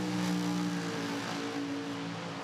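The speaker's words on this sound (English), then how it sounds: "And then that massive launch RPM, you can see the bodywork shaking around" An Aeroflow Outlaw nitro funny car engine holds a loud, raw, sustained rev at launch RPM, a dense roar with steady droning tones and no voices.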